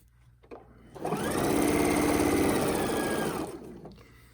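A sewing machine stitches a quilt border in a single steady run of rapid needle chatter that rises, holds for about two and a half seconds, then stops, with no talk.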